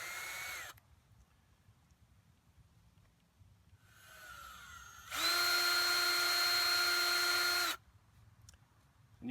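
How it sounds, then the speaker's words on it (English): A power drill with a 3/16 bit boring into a snowshoe, a short whir, a pause, then a loud steady high-pitched spin lasting a few seconds before cutting off. "drill it out enough that the hole doesn't close back over itself"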